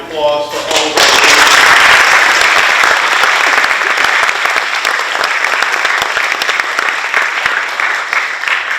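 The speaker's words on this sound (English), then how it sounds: "Can we have a big round of applause for all of our" Sustained loud applause from an audience at a school achievement awards ceremony honoring students, a dense wash of clapping that swells quickly and holds steady for several seconds.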